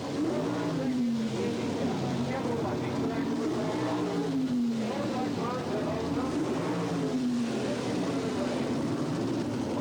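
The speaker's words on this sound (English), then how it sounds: "the second Monza on the starting line here at the Spring Nationals" A 1977 Chevrolet Monza gas coupe drag car idles and revs at the starting line at the Spring Nationals, a loud, continuous engine drone with rising and falling pitch, heard under a commentator's voice.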